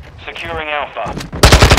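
Machine gun fire in Call of Duty: Modern Warfare II multiplayer, a loud rapid burst of shots at close range arriving near the end, after game voice lines and talk.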